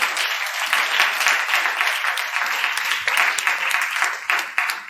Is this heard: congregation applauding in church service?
yes